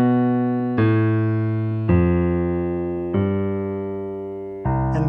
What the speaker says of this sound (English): And that is the bass line